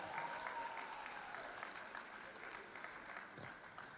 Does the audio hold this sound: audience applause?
yes